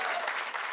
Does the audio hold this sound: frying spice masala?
no